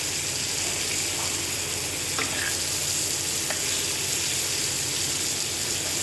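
Pointed gourd (potol) frying in a pan gives a steady, dense sizzle that holds evenly throughout, close up, with faint clinks now and then.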